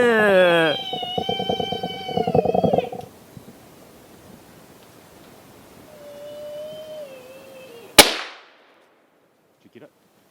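A single loud rifle shot fired at a sika deer during the rut cracks out near the end, sharp and close, followed by a brief decaying echo and near silence; people talk earlier over faint background sound.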